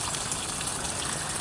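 Water gushes steadily from a hose into a swimming pool with a wetsuit-patched liner, a close, continuous rushing splash with no pauses.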